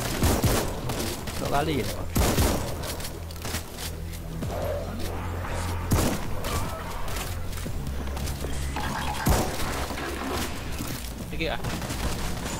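Machine gun fire in World War Z, a dense, continuous rattle of shots with a few heavier thumps, running under players chatting throughout.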